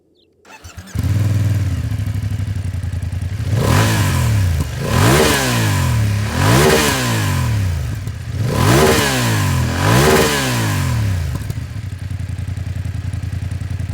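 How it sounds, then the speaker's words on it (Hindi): A 2025 BMW F 900 GS Style Passion motorcycle engine starts up and settles into a steady idle, then is revved four or five times in rhythmic blips, its exhaust note loud and close, with no talk. "आपको इसका एग्जॉस्ट नोट सुनाता हूँ"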